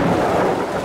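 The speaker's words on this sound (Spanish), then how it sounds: "Truenos tiene. Pero poquito, no es tan fuerte." Thunder rumbles loudly and continuously alongside steady rain, a recorded storm sound playing on its own with no voices over it.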